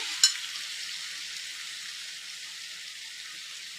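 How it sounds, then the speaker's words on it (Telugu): Cauliflower frying in oil for several minutes, a steady close sizzle throughout with a brief clatter at the start and end. "ఆయిల్లో 5 మినిట్స్ మనం ఇట్లా మంచిగా ఫ్రై చేసుకున్నాము."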